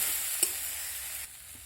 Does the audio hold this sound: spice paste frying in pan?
yes